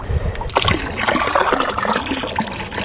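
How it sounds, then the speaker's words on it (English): Pool water siphoning through a short hose, a close, uneven trickle and splashy gurgle that keeps running with small bursts. "there's not a whole lot of water coming through here"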